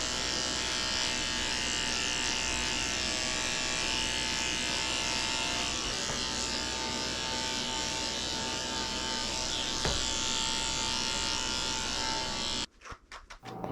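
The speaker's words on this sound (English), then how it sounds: "I'm using a number 10 blade under his tail. Shave out all this hair away from his poo-poo area" Electric clippers fitted with a number 10 blade shave a Maltese mix dog during a short pet grooming trim, giving a steady close buzzing hum that runs unbroken for about twelve seconds before cutting off abruptly.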